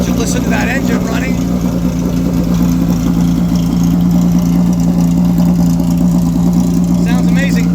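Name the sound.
vintage race car engine idling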